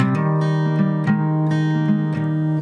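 An acoustic guitar strums and picks a chord in a steady rhythm, notes ringing together, close and clear with no talking.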